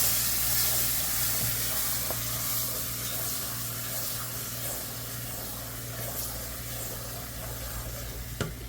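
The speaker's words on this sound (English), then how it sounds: "You see how we put in our cherries. We put in our raisins now. Stir this up." Cherries and raisins stirred in a pan for Prasad, a sweet Indian treat, giving a continuous close sizzle and frying hiss over a steady low hum, with faint spoon movements and one sharp tap near the end.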